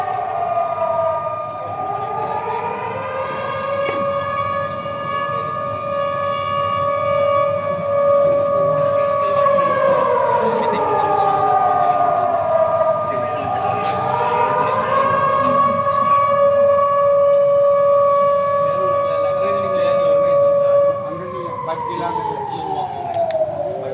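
A civil defense siren sounds during an earthquake drill in the Intramuros area of Manila, its loud wailing tone rising and falling in long slow sweeps, steady and continuous throughout against a faint outdoor background.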